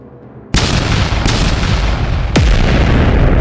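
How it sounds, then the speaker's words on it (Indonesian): Heavy, close explosions and booming gunfire erupt suddenly over a dense, roaring battle din, with a sharp blast near the end. "menciptakan ledakan besar yang terus-menerus bergema"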